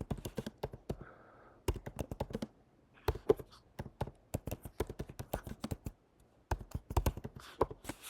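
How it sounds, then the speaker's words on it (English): Rapid clicking of keys on a computer keyboard, in uneven bursts with short pauses between them, close and fairly quiet. "I'm going to start typing it out."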